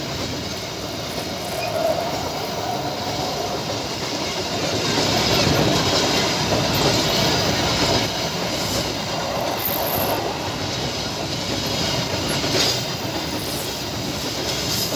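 A freight train of flat wagons hauled by a CC 203 locomotive rolls through a station without stopping, a steady loud rumble with wheel clatter and faint squeal throughout.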